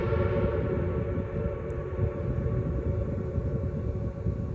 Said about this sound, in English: There's the smoke coming up from behind the building from the train. It's the locomotive, baby.